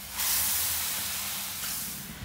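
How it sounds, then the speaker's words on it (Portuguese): Onion and garlic sizzle in a plow-disc pan over a wood-fired stove, giving a loud, steady frying hiss that swells quickly and then holds close for a couple of seconds. "Ó, a cebola e o alho já está fritando aqui."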